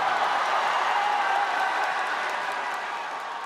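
A large crowd cheers and applauds at a party primary result announcement, a dense and steady roar of clapping and shouting that stays loud and unbroken throughout.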